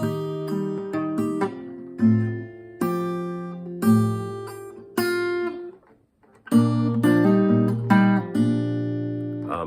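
An acoustic guitar plays ringing strummed chords with bright single-note fills on the upper strings, loud and close, with a brief pause midway.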